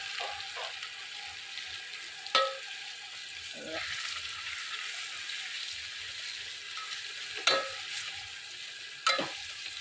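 Ground masala paste frying and being stirred in a pan for masala rice, a soft continuous sizzle close by, broken by a few sharp scraping clinks of the spoon against the pot.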